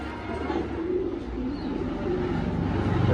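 Soft, low pigeon cooing murmurs close by against a faint background hum, growing slightly louder toward the end.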